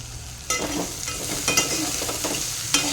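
Egg curry with garlic cooks in a pan, giving a steady close sizzle and frying hiss with a few sharp scraping stirs of a spoon.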